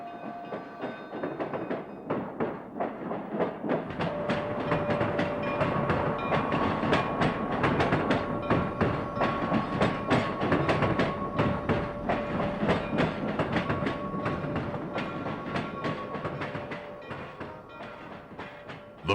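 A 2-8-2 steam locomotive brings a local train into a busy freight yard at the foot of the Sierra Nevada, with continuous rolling clatter and rumble of cars and a faint tonal whistle, swelling and fading over the stretch.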